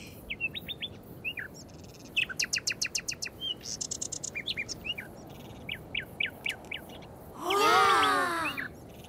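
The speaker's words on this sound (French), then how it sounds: "On entend l'oiseau qui est là-bas!" Clear bird song near palm trees in Madagascar rings out in repeated chirping phrases and quick trills, fairly close, with a louder harsh burst of calls near the end over quiet background.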